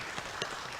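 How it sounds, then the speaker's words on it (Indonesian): Faint, diffuse applause from an audience at a seminar honoring Professor Syawal Gultom, soft scattered claps heard from a distance with no voices. "tepuk tangan untuk Pak Profesor Syawal Gultom"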